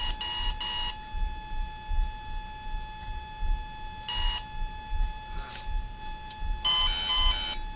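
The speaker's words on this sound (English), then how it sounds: "that was timing a long beep followed by a short one" A Volcano 30A brushless ESC for a 450 RC helicopter emits programming beep tones: a few short bursts at the start, a longer tone near the middle, and a final extended beep, clear against quiet background.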